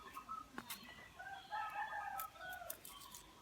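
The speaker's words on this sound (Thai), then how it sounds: "ฟังเสียงนก เสียงไก่เสียงวัวเด้อพี่น้อง" Faint, distant clucking of chickens with a rooster's drawn-out crow in the middle, heard across a quiet outdoor yard.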